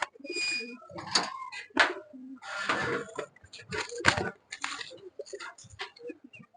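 Pet pigeons kept at a village home coo in repeated soft bursts close by, with chirpy calls mixed in and light rustling between phrases.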